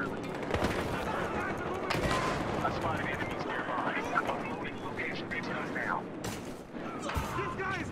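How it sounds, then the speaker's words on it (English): Gunfire in an online shooter game, with scattered single shots and short bursts at varying distances over a dense battlefield din, while a player talks throughout. "I am shooting back"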